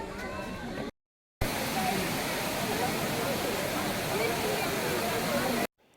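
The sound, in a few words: man-made waterfalls in Rock Garden, Chandigarh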